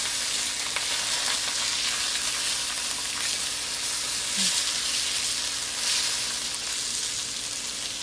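Carrots frying in a pan as they are stirred, a soft, steady sizzle and hiss with faint scraping of the utensil, fairly quiet and continuous with no talking.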